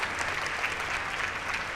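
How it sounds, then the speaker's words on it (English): Audience applause at a dual enrollment recognition ceremony honoring a regional superintendent of the year: steady, dense clapping from a room full of people, sustained at even loudness throughout with no speech over it. "that absolutely deserves some applause"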